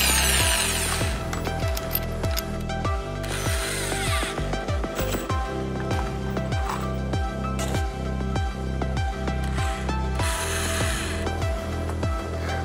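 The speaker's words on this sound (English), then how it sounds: "I know that's a weird way to hold a drill" A power drill whirs in repeated short bursts, driving fasteners into wood while a rabbit hutch is built, with mechanical clicking and steady low hum between runs.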